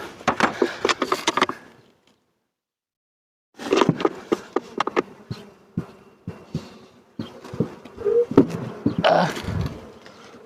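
Honeybees buzz in close, dense bursts during a spring hive inspection, with a short silent gap before the swarming hum returns and swells.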